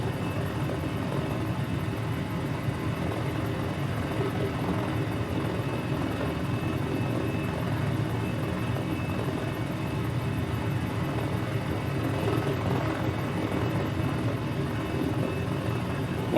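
Steady, loud rotor and engine drone from a helicopter flying in Microsoft Flight Simulator, a constant close roar with a thin high whine and no speech, holding level for the whole span.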